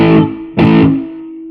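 Two distorted electric guitar chords through the Brit 2000 amp model of a Nux Mighty 60 MkII amplifier, the second struck after a short pause and left ringing out, with a crunchy British-style tone.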